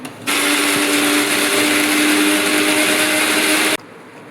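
A mixer grinder whirs loudly as it grinds green chilli, ginger and garlic into paste, starting abruptly, holding a steady high-pitched drone for about three and a half seconds, then cutting off.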